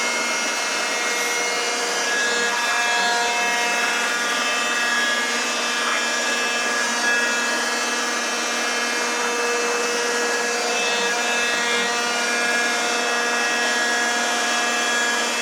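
A Rockford metal shaper machines metal with a cutter while running at slowed speed, giving a continuous loud mechanical drone with steady tonal whine and grinding texture throughout.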